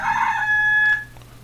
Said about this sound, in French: il y a le chant du coq